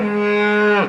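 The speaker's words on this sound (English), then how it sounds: "Very noisy cows." A single loud, close cow moo, one sustained bellow lasting under a second that drops off sharply at the end, with nothing else heard.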